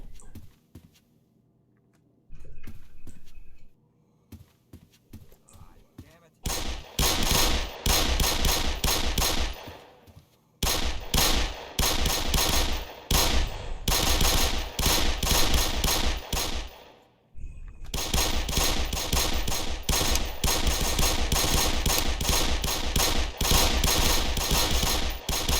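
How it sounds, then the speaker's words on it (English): Enemy soldiers in Black Mesa unleash loud, sustained automatic gunfire in long rattling bursts, broken by brief pauses, after a quiet stretch with a few isolated shots. "not even sure what they are shooting at, to be honest."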